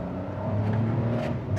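Hyundai i20 N-Line with a 1-liter turbo engine accelerating hard, a loud close rising engine tone with whirring and brief shifts between gears made with the paddle shifters, heard alone without talk.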